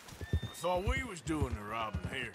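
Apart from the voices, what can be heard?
horse in video game Red Dead Redemption 2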